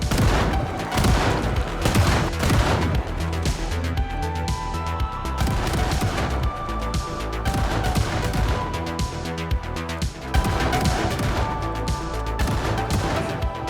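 Guns fire at a zombie horde during horde night in a mall in Project Zomboid: dense, rapid volleys of loud shots crack almost without pause, with sharp impacts layered through the barrage.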